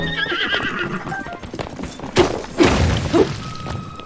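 In Zelda: Tears of the Kingdom, a horse gives a loud whinny, then heavy thudding hoofbeats follow in a few close, uneven bursts.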